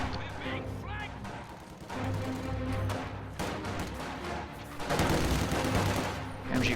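Video game battle with sniper and MG42 machine gun fire: bursts of rapid gunfire and scattered shots rattle in the distance under an excited commentator's voice, with occasional louder bangs.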